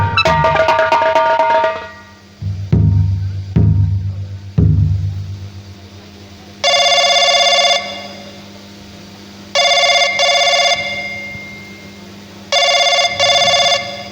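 A telephone rings in three long electronic bursts with pauses between, after a few deep low thuds and a bright opening chime.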